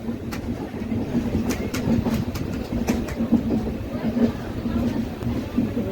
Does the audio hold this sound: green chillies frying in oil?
no